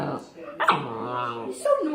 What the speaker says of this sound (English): First time I ever heard him bark.